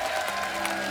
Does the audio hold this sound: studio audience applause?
yes